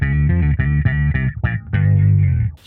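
A bass guitar played through an OctaBass octave pedal gives thick, synth-like notes. A run of short plucked notes leads into a long sustained note, loud and close, with no talking.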